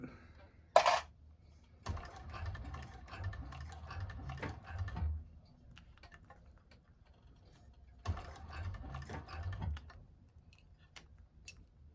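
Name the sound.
1341 cylinder arm sewing machine stitching a bag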